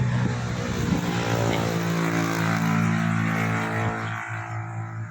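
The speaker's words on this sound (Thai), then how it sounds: "ร้านอยู่ติดถนนใหญ่นะครับ พี่น้องก็ จะมีเสียงรถนะครับ" Loud, steady engine drone with a strong low hum that fades slightly near the end, like heavy motor traffic passing close by.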